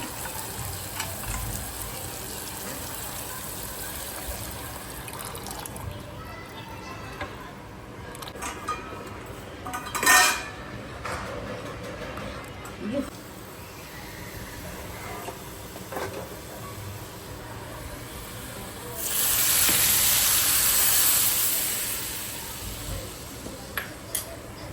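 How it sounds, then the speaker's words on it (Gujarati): Spice masala of coriander-cumin powder, red chili powder and turmeric with lemon juice fries in a pan, giving a steady low sizzle with a few clinks, then a louder surge of hissing near the end. "તો જો આપણો મસાલો મસ્ત ફ્રાય થઈ ગયો છે એકદમ."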